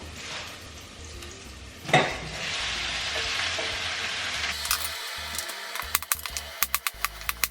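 Meat browning in a pan, with a steady close sizzle and frying hiss throughout, interrupted by a brief stir and a few sharp clicks and knocks near the end.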